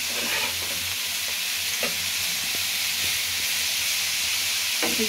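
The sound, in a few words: frying and stirring vegetables for fried rice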